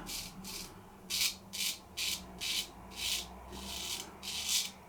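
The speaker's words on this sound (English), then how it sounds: "quite a noisy old razor" Repeated rasping strokes of a straight razor, freshly honed on a 12,000 stone, scraping across stubble, about a dozen rhythmic passes, close and crisp with short pauses between strokes.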